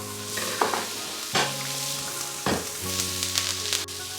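Kottu ingredients sizzle steadily in hot oil, a continuous frying hiss broken by a few scraping stirs, close and fairly loud, with no voices.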